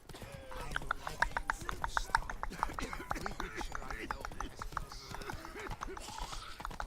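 A horse gallops in The Witcher 3, its hooves clip-clopping in a steady fast rhythm with game sounds around it and a voice over the top.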